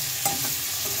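Cauliflower florets with a little turmeric fry gently in a pan, giving a steady, moderate sizzle with a single light stirring clink near the start.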